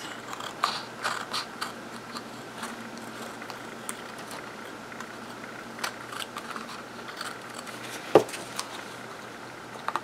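Paper is trimmed off an envelope journal cover, with a steady run of light, close snips and scrapes over a constant hum and one sharper click near the end.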